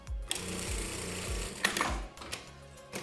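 A sewing machine stitches along the edge of a retro bikini top, running in steady bursts with short pauses and restarts, close and fairly loud with no talking.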